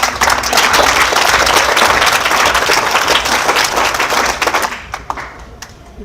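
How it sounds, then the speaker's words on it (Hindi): Villagers at a village meeting in Haryana, India clap loudly together for several seconds, the applause thinning out into a few scattered claps at the end. "हमारे गांव को अवार्ड मिला है ये हमारे एक बार जोरदार तालियां।"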